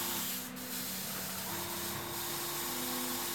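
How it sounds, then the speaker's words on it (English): An airbrush sprays white paint onto an abstract painting, a close, steady airy hiss with a faint underlying tonal hum, continuous and unbroken, with no talking. "I'm spraying white right now, just giving some soft atmospheric touches here and there."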